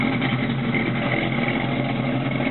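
A 1968 Ford Mustang Fastback with a 427 V8 and dual exhaust idles with a deep, steady exhaust rumble, loud and close, holding an even throb throughout.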